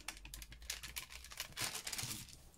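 Wrapping being slowly and carefully peeled off a candle, heard as faint, close crinkling and soft tearing in irregular little bursts, with no talking.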